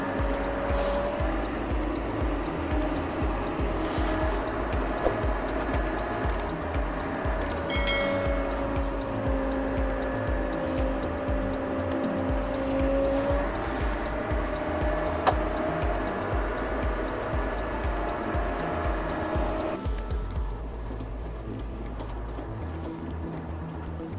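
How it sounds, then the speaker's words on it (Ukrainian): A 120 hp John Deere 6800 tractor pulls away smoothly and drives on, its engine a steady continuous drone with a rising tonal whine, fairly close and loud, alone with no talk. "рушає трактор."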